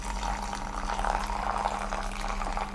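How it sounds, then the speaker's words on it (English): Water poured steadily over Thai jasmine green tea, a soft continuous trickle and splash under a low background hum. "first pour a little bit and let your tea bloom for a few seconds, and then we can pour high and then low"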